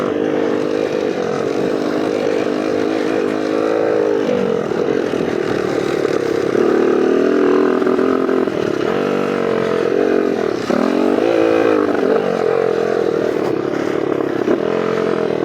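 A Honda CR80 dirt bike ridden over muddy ground at Lake El Reno, its two-stroke engine loud and close, droning and rising and falling in pitch as the rider works the throttle throughout.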